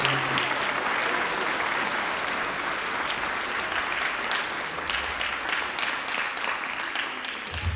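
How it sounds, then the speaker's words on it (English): Sustained, steady audience applause at a middle school band and choir concert, loud and continuous throughout with no speech over it. "So we need to give them a round of applause."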